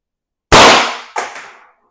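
A single loud .338 rifle test shot fired next to a tuning-chamber muzzle device, a sharp crack that decays over half a second, followed by a fainter echo or impact report.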